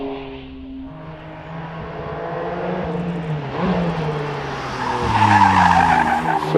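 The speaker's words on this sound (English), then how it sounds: "Richard Snow gets underway in the Porsche Cayman GT4 RS." Porsche Cayman GT4 RS race car setting off at a hillclimb, engine tone rising through gears with tyre scrub, growing louder toward the end, no talk.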